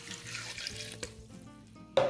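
About 250 ml of water pours into a blender jar of pitted black plums for plum jam, a short splashing run at the start, then quieter, and a brief louder gush near the end.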